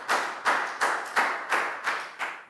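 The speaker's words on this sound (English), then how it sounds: "Big round of applause for Down," A class of pupils claps for a classmate in a school classroom, about six evenly spaced bursts of close, lively clapping with no talk over it.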